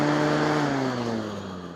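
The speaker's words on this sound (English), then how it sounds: "it should make my fan go in reverse, shouldn't it?" An electric fan motor, wired with reversed polarity, whirs in reverse as it spins down, a steady humming drone whose pitch gradually falls and fades a little, with no talk over it.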